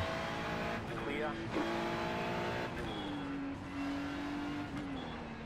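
Race car engines hum and whine steadily in an iRacing session, with a whining pitch that rises and falls through gear changes and shifts as other cars run close by, while a voice talks over the top.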